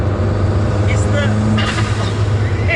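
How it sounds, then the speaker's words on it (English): A Lancia Delta Integrale's turbo blow-off valve lets out a brief whooshing hiss over the car's steady, loud interior engine drone. "it's that blow-off valve on the turbo."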